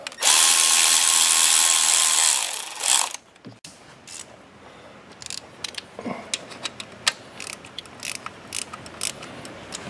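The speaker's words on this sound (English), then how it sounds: "Now we're just gonna tighten it down without going crazy." A new crankcase vent valve on a 2008 Mercedes-Benz GL320 CDI is tightened down with a power tool, heard as a loud, close whirring run of a few seconds followed by scattered faint clicks and ratcheting taps.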